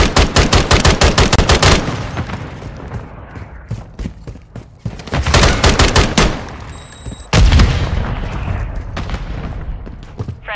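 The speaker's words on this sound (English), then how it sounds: "Throwing a stun grenade! Stun grenade!" Rapid gunfire in a Call of Duty MW3 team deathmatch on the Terminal map, loud sustained bursts with heavy booms and brief gaps.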